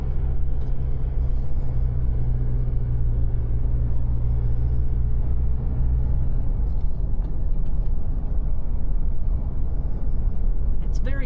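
A car travels slowly along a winding road through a gorge near Port Germein. A steady low road and engine rumble fills the cabin as people talk throughout.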